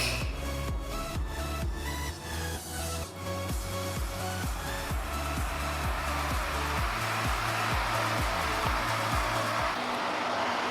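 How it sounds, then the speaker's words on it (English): Crompton High Speed 600 HS24 ivory ceiling fan, freshly installed, switching on and spinning up to steady speed, a continuous whirring drone with rhythmic pulsing that evens out as it settles, loud and close throughout. "So let's start the fan."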